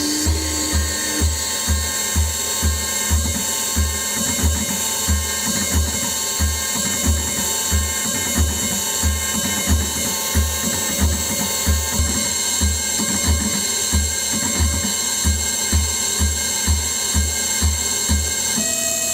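A CNC machine runs a cycle on a fixtured workpiece during a zero-offset setup, giving a steady mechanical hum with a regular, quick rhythmic clatter throughout, close and continuous with no talk.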